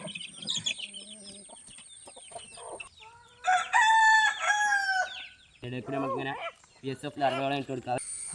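Backyard chickens crowing and clucking while being fed black soldier fly larvae, a loud rooster crow rising in the middle among scattered clucks, with a person talking over parts of it.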